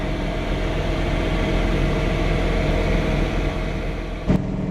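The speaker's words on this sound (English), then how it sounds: "Blower sounds really great." A John Deere 3 Series compact tractor with a snow blower runs in a steady, even drone with no breaks, ending with a brief knock just before the close.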